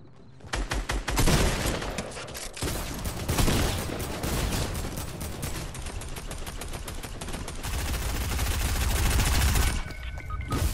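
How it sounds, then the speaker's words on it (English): Rapid video-game gunfire, dense bursts of shots and sustained automatic fire rattling almost continuously, loud and close, with a brief lull near the end. "Shots fired. I think they're on me."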